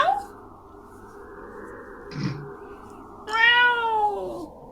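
A person playfully imitates a cat during a game session, letting out a drawn-out, whiny meow close to the microphone with a brief voice sound in the middle and a higher, wavering meow near the end.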